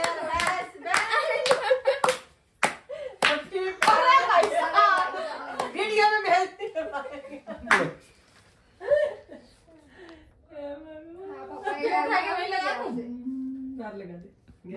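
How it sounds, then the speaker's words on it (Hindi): A family at home in Jaipur claps by hand at a father's birthday cake celebration, with sharp, scattered claps close by amid chatter and laughter. "मम्मी ताली बजे की तभी केक मिलेगा"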